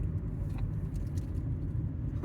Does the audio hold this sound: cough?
no